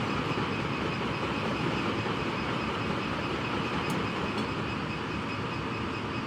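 A train in Train Simulator Classic rolls along the Trent Valley line between Nuneaton and Stafford, giving a steady broadband rumble with wheel-on-rail clatter, constant and moderately loud, with a couple of faint clicks.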